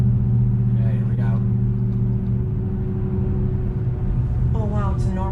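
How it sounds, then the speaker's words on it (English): A Mopar car in normal drive mode gives a steady, mellow low engine rumble from inside the cabin, with people talking over it. "Yeah, it sounds like a regular car."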